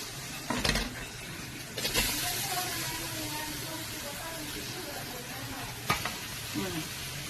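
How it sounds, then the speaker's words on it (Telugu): Onions sizzle in butter in a hot pan, a close, steady frying hiss broken by a few louder clatters of stirring. "వెన్న కరక్క ముందే మనం ఎర్రగడ్డలు వేసేసుకోవాలండి."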